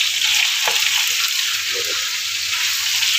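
Mutton chaap frying in a pan gives off a loud, steady, close sizzle that never lets up, with a few brief bumps and scrapes of handling.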